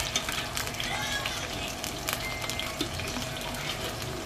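Mutton pieces frying in oil in a karahi, a loud continuous sizzle with spattering crackles and stirring, close and steady throughout.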